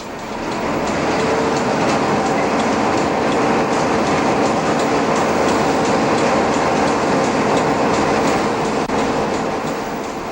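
A Newfoundland Railway train rolls along the tracks near Terra Nova National Park, a steady loud rumble with rhythmic clicking of wheels on rail joints throughout.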